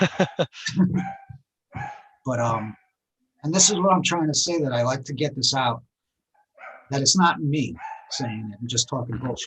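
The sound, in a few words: dog barking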